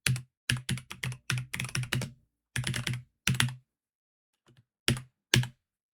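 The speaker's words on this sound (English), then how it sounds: "I don't have music, but we do have keyboard sounds" Computer keyboard typing in short bursts of quick, close clacking keystrokes, separated by pauses and with one faint tap, with no voices.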